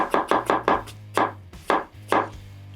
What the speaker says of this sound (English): I like to just rotate it like this and just take my knife, nice and thin